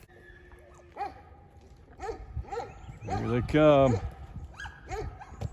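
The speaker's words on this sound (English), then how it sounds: "When they run, the dogs bark." Several dogs bark as they run in, with sharp separate barks rising into a louder burst of overlapping yips and howls near the middle, while a person speaks briefly.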